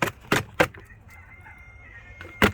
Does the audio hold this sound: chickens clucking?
yes